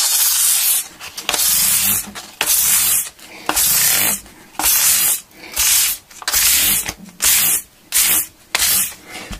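Frets on a Squier Standard Strat guitar are sanded by hand with 600 grit sandpaper, about a dozen rhythmic back-and-forth rubbing strokes, close and loud, separated by short pauses.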